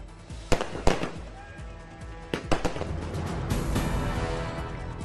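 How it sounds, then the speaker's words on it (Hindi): Fireworks burst outside the BJP headquarters in Delhi at a celebration of an election win, several sharp loud cracks over a continuous crackling roar that builds toward the end. "दिल्ली बीजेपी मुख्यालय के बाहर जीत की खुशी में आतिशबाजी की गई।"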